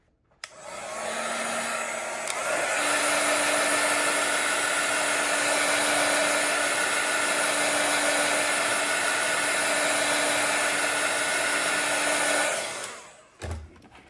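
A craft heat tool blows hot air over liquid acrylic on a tag topper, a steady loud whooshing roar with a high whine that runs for about ten seconds before switching off with a click.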